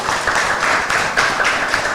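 Dense, steady applause from an audience honouring a government minister at a press event, a continuous wash of many hands clapping at moderate volume for the whole stretch, with no voices standing out.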